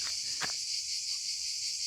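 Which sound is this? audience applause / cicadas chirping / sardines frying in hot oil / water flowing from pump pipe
cicadas chirping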